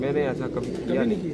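Racing pigeons in a Lahore loft coo softly in the background while someone talks over them.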